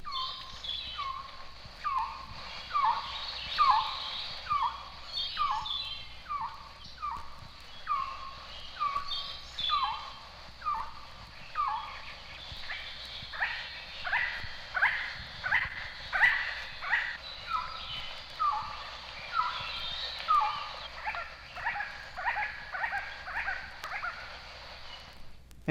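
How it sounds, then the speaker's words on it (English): A rare quetzal in a Chiapas cloud forest repeats a clear two-note call in regular pairs, then runs into a faster series of notes in its flight song, fairly close against quiet forest background. "In a cloud forest of Chiapas, the rare quetzal gives its two-note call and also its flight song."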